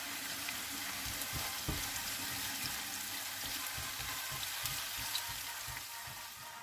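Onions sizzling in oil in a saucepan, a steady crackling fry with a few soft stirring knocks and scrapes, close and constant with no talking.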